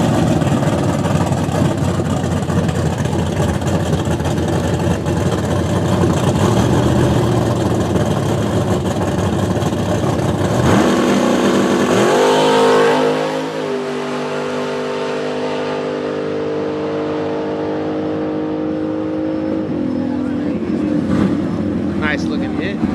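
A first-generation Camaro drag car makes a solo pass at Little River Dragway, its loud engine roaring steadily before dropping to a lower, rougher rumble as it fades into the distance.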